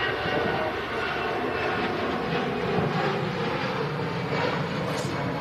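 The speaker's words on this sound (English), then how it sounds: "that's the EasyJet departing out to Grenoble" An EasyJet airliner departs for Grenoble, a broad, steady jet roar heard at a distance with no voices over it.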